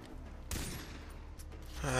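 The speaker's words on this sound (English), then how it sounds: "I'm running out of ammo if I keep on shooting." Gunfire in the video game Far Cry 3: a loud burst of shots erupts midway, and a sharper report follows near the end over quiet background noise.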